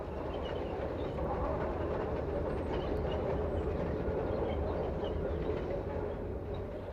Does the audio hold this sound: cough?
no